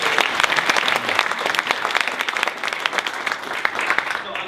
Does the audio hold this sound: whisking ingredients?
no